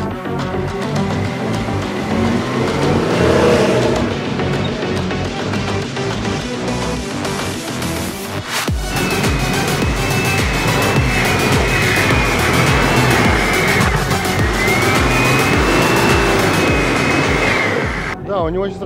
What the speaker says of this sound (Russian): Движка не хватает, машина тяжелая, но очень классная. Туарег хорошая машина.